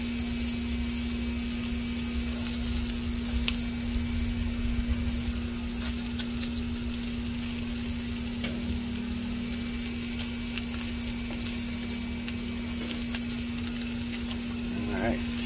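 Sausage sizzles on a Blackstone griddle, a dense, continuous crackling fry heard up close with a steady low hum underneath and occasional faint clicks, unbroken for the whole stretch.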